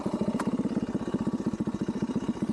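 A Phatmoto Rover 49cc 4-stroke engine running close by, a steady rapid putter of evenly spaced firing pulses with a faint mechanical clatter, holding a constant pace throughout.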